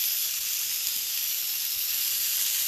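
Thick bacon sizzling in two pans, a loud, steady frying hiss that holds evenly throughout with no voices over it.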